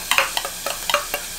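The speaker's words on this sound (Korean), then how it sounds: "고기가 다 익었으면 아까 남아있던 양파 싹 다 넣어주고." Onions are tossed into a pan with cooked meat for a tantan ramen soup, giving short scraping stirs with light sizzle in a quick irregular rhythm of about seven strokes, close and clear.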